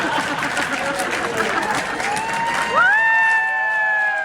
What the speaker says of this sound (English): Let's give another round of applause for Chelsea.